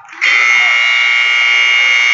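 A loud, steady electronic buzzer in a high school wrestling gym sounds continuously to end a period, starting abruptly and holding at an even pitch.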